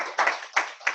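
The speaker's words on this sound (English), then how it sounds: "let's all give John another round of applause." A few hands clapping near the microphone for a speaker at the close of a webinar, three distinct sharp claps in quick succession.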